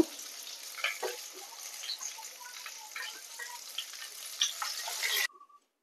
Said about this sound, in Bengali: একই রকম ভাবে আমি বাকি পটলগুলোকেও ভেজে নেব।